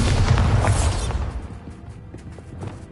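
A deep, booming explosion from the Bombarda blast spell in the video game Hogwarts Legacy, loud at first and then fading through a long rumbling tail into quieter game ambience.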